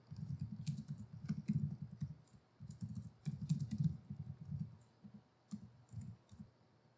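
Code being typed on a computer keyboard in a programming lesson: steady bursts of quick, close clicking keystrokes with brief pauses between runs.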